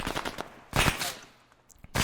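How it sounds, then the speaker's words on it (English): Bursts of automatic gunfire in the military shooter game Arma 3, several sharp volleys spaced through the moment, fairly close and loud, with brief quieter gaps between the rattling shots. "Still hear some gunfire."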